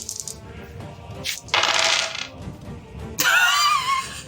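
Dice rolled and tumbling on a table during a tabletop role-playing game session, a few sharp clattering bursts of hard plastic hitting the surface and rattling to a stop, close and fairly loud with no talking.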